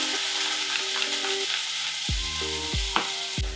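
Vegetables, destined for red beans and rice, cook in a pan with a constant broadband sizzle, joined by a few low clunks and tonal scrapes toward the end; no one speaks.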